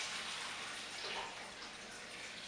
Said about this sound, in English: 225 liters of dirty water coming out of here